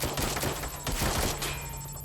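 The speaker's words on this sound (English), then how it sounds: "Gunfire!" Bursts of rapid gunfire crackle in quick succession over a constant high electronic tone in the video game Watch Dogs: Legion, with no talking.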